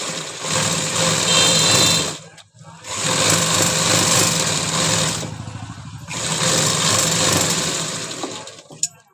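A sewing machine stitches a dhoti salwar seam in three close, loud bursts of rapid mechanical whirring, separated by short pauses.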